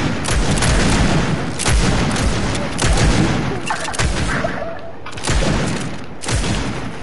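Rapid volleys of video game gunfire in a squad match, sharp repeated bursts and booms packed densely across the stretch, loud and close with no clear pauses.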